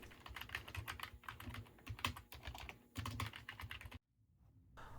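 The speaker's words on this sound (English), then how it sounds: "It's a membrane keyboard, obviously, so there is a little bit of mushiness with the key feel" Fingers type on the membrane keyboard of a Power Mac G4 Cube, producing soft, close, rapid clusters of key presses that carry on for four seconds and then stop abruptly.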